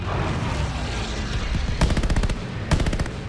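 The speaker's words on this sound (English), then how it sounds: "Bullets! Bullets everywhere!" Gunfire in the World War II shooter Call of Duty: Vanguard, set at Midway. Bursts of rapid automatic fire rattle over a constant roaring battle din, with two distinct sharp volleys standing out near the end.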